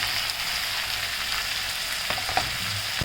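Chopped capsicum with chilli powder and turmeric frying in a pan, a steady close hiss of sizzling oil with a couple of soft stirring scrapes near the end.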